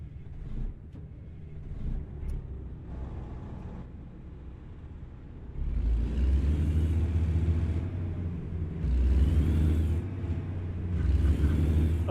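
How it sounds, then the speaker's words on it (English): A heavy truck engine in American Truck Simulator idles with a low rumble, then revs up into a deep, loud, beefy drone that swells and eases in repeated surges as it pulls away. "Oh, this truck sounds nice."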